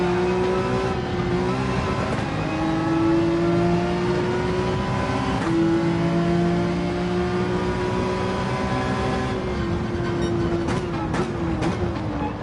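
A racing engine in Gran Turismo 7 holds a loud, steady high drone, dipping and climbing as the throttle comes off and back on through a corner, with a few quick shift blips toward the end.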